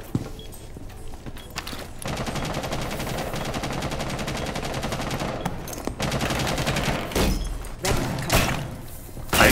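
Heavy gunfire in a Rainbow Six Siege skyscraper match, sustained rapid automatic bursts with loud thuds and a few separate shots near the end, close and dense.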